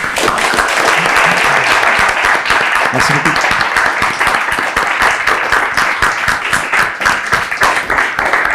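A talk-event audience gives a dense, loud burst of steady clapping that lasts throughout, with a brief spoken thanks over the applause.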